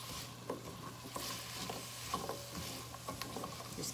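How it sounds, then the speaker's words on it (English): Vegetables sautéing in butter for creamy chicken noodle soup, stirred and tossed in the pan: a steady soft sizzle with light scraping stir strokes every half second or so, close and continuous, no talking. "Just keep stirring it where you won't burn that butter."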